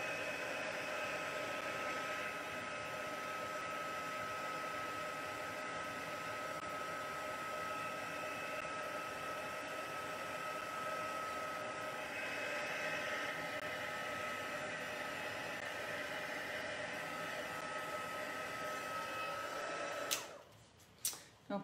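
A heat gun melting embossing powder gives a steady, close, breathy blowing hiss with a faint fan whine, running evenly without talk before a few sharp knocks and clatters at the very end.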